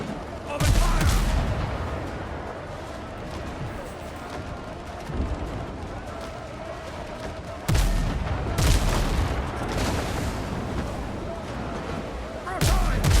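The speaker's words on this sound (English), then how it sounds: "Broadside." A ship's cannon broadside in the naval game Windrose, with several heavy booming volleys rolling out in waves, loud and close, and a voice speaking briefly between the blasts.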